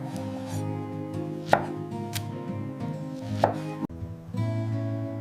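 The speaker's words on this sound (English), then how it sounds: "Slicing them into beautiful rounds." Ripe bananas being sliced into rounds on a board: a few sharp, separate knife knocks spaced through the clip over steady background music, with no talking.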